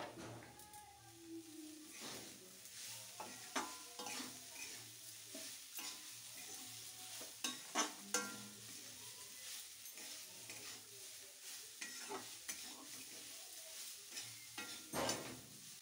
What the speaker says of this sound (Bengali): এরপর কেটে রাখা মূলোগুলো দিচ্ছি।